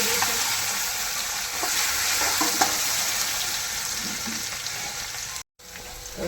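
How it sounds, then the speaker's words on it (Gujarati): Dried red chillies and curry leaves sizzle steadily in hot oil for a tempering, a continuous loud crackling hiss with small pops, briefly cut near the end before resuming. "વઘારમાં આપણે 2 લાલ મરચાં લીધા છે સૂકા અને લીમડો"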